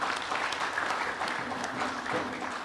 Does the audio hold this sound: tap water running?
no